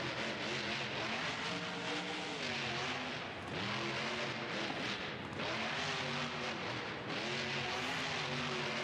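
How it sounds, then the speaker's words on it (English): A loud, continuous monster truck engine roar in BeamNG.drive, rising and falling in pitch as the throttle revs, with synthetic game-like tones and no speech. "the truck sound proper in replay mode"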